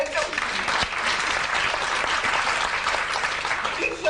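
Audience applause at a theatre comedy performance, a full, continuous burst of clapping from a crowd that stays loud and steady throughout.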